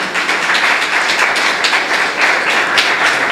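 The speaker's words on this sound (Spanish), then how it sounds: "Si le va a dar ese aplauso al Señor, déselo fuerte, fuerte, fuerte" A church congregation applauds during a service with steady, dense clapping, loud and sustained, swelling slightly in bursts with no talking over it.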